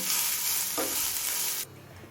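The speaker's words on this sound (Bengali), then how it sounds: "এবার মিডিয়াম ফ্লেমে পেঁয়াজটা লাল হয়ে আসা পর্যন্ত ভেজে নেব" A large, thinly sliced onion fries in oil over a medium flame until browned, giving a steady close sizzle with a brief scraping stir partway through before the sound thins out near the end.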